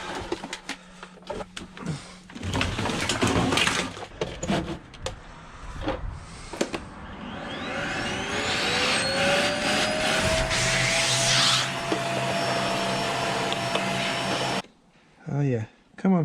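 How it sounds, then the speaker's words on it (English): A vacuum cleaner sucking salt out of a Yamaha F100 four-stroke outboard motor, its rising whine swelling into a steady roar for several seconds after scattered clunks and handling noises, close by, cutting off abruptly near the end. "If I can suck it out with a vacuum."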